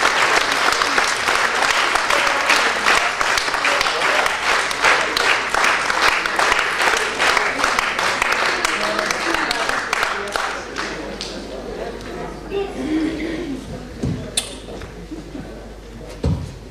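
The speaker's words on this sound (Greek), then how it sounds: "Аплодисменты." Sustained audience applause at a Greek song festival award ceremony in Almaty, a loud crowd clapping steadily that thins out and fades toward the end.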